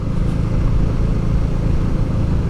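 An old motorcycle revving hard on the mountain hairpins of the Col de Vars, its engine a loud, continuous, close-up drone that stays full and steady throughout.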